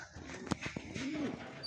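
A pigeon coos softly a few times amid light background noise, close by, with brief sharper sounds between the calls.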